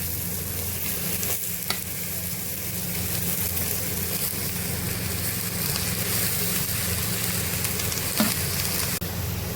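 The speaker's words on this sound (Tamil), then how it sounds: "பாருங்கள், நல்லா முட்டைகோஸ் பெரட்டி விட்டாச்சு." Cabbage stir-fried with softened onions in a pan for a village-style cabbage poriyal, a loud, continuous close sizzle with occasional stirring scrapes throughout.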